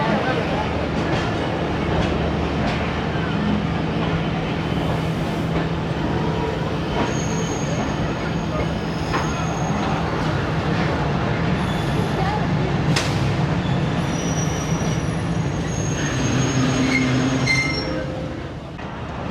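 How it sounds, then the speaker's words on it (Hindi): Fareed Express passenger train pulling out of Basirpur railway station, a steady rumble of rolling railcars with squealing wheels and scattered clanks, loud and continuous throughout, with faint voices in the background. "बसीरपुर रेलवे स्टेशन से रवानगी"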